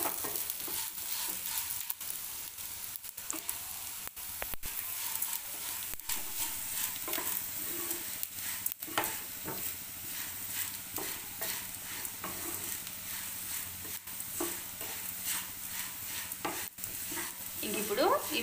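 Fenugreek and coriander seeds dry-frying in a pan, with continuous scraping and stirring and a light background sizzle, plus sharp clicks of the spoon at intervals.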